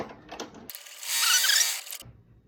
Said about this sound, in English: So the first stitch, you go ahead and press start because this is gonna be your tack down stitch.